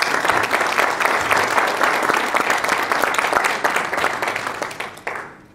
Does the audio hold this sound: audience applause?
yes